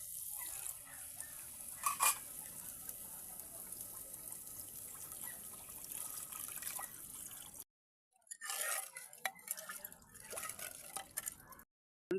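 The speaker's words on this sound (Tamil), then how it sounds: "இதுக்கு தேவையான தண்ணி சேர்த்துக்கொள்வோம்." Water is added to a pot of country crab soup with tomatoes, giving soft splashing and dripping with stirring clinks, a brief silent gap, then more trickling, fairly quiet throughout.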